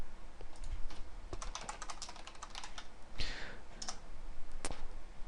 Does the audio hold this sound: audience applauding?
no